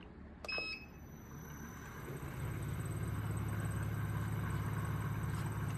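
A combined vibratory tumbler and magnetic polishing machine starts up: a short electronic beep, then a motor hum that builds and settles into a loud, steady drone close by.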